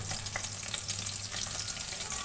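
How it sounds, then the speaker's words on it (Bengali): Piyaju fritters sizzle in hot oil, with a dense, steady crackle and spitting close by throughout, and no voices. "একটু কড়া করে ভাজি করবে, তাহলে ক্রিস্পি হবে।"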